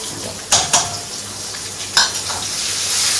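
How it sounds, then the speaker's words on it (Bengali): Onion paste hits hot oil in a cooking pan, giving a steady soft sizzle broken by a few sharp scrapes and clinks of a spoon stirring against the pot. "এই যে পেঁয়াজ, এই যে আমি পেস্ট দিয়ে দিচ্ছি।"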